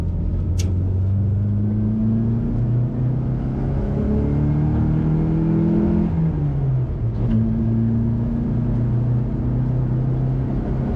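A classic Mini engine at full throttle in top gear pulls with a steady, loud drone, its pitch climbing gradually and then dropping briefly before rising again, with continuous road rumble underneath.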